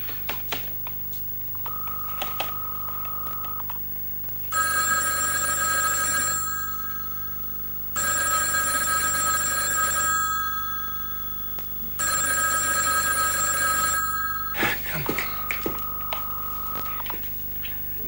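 A landline telephone rings unanswered through the earpiece: three long electronic ring bursts with steady pauses between them, framed by shorter tones and faint handset clicks, all fairly close and with no voices.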